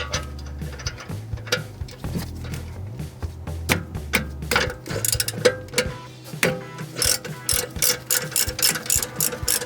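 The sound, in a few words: ratchet with 9mm hex driver undoing brake caliper bolts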